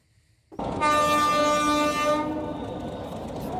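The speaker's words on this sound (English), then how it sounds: "World's most crowded train, it says." Crowded train on a railroad in Bangladesh, its horn suddenly blaring loud and close for about two seconds, then rumbling wheels and rolling railcar noise carrying on underneath.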